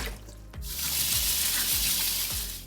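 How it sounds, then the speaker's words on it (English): Cold tap water pours steadily over drained sweet potato fries in a sink, a continuous loud hiss and splash after a brief clatter, with no talking. "you're gonna wanna drain them and rinse them off with some cold water"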